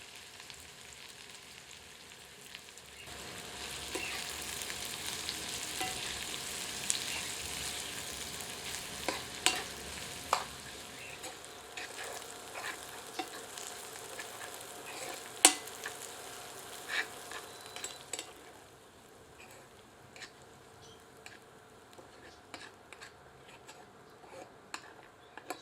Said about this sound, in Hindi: प्याज को भी तेल में भून लेते हैं।